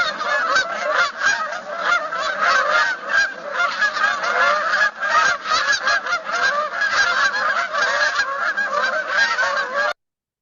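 A large flock of Canada geese honking continuously, many overlapping calls close by, loud and dense for the whole stretch.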